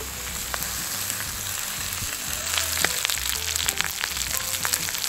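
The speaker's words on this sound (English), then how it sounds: "Well, now our meat starts to color nice and brown." Beef short ribs browning in a hot skillet give off a steady, close sizzle and crackle throughout, with occasional small pops and no voices.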